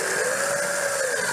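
A power drill or screw gun whines steadily while driving screws to fasten soffit vents under a roof edge, a close, continuous motor tone with a slight pitch shift, heard alone.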